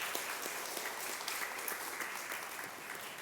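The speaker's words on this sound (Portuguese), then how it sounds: "Aplauda o Senhor, queridos." A church congregation claps steadily, a dense, even wash of applause at moderate distance with no distinct voices.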